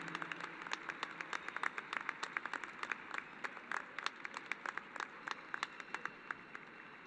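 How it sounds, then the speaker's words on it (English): Families at a 2021 high school graduation ceremony give a round of applause, a fairly quiet spread of individual claps with distinct hand strikes over a soft crowd murmur. "will you please stand and give a big round of applause to your families"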